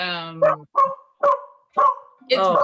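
A dog barks repeatedly at home during a video meeting, with five loud, close barks in a steady rhythm, the first a drawn-out yelp, and no talking over them.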